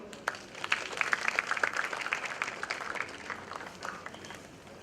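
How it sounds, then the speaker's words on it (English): Audience applause at a professional taxation seminar, a moderate-sized group clapping with distinct individual claps audible, uneven and somewhat sparse, fading gradually toward the end. "Please give a round of applause."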